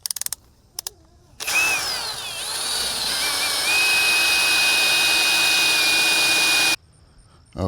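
A power drill spins a gray sanding disc against a Nissan S15 Silvia headlight lens, starting with a few short clicks, then a loud steady whirring grind with a slightly wavering pitch that runs several seconds before stopping abruptly.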